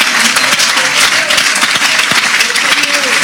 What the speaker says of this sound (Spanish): dele fuertes aplausos al Señor